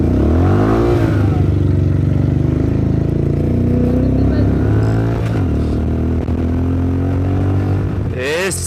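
Motorcycle engine revving up and down at close range, a steady loud drone with rising and falling pitch sweeps, ending in a sharp rev near the end.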